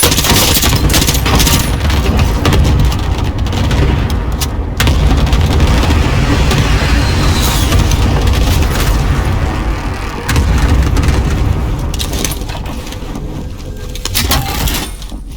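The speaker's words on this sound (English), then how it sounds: "Bringing down an airstrike." Dense, loud barrage of heavy booms and rapid gunfire from an airstrike in the Warzone video game, with explosions overlapping continuously and no pause.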